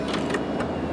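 Power roof of a 2021 Lexus LC500 convertible opening after a button press, a steady close motor whir with faint mechanical shifting, continuous for a second with no talk.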